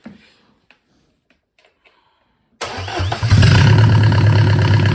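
A Mercedes OM601 2.0 diesel engine cranks and fires up after a couple of seconds of near silence, then runs loud and steady close by with a dense, rumbling clatter.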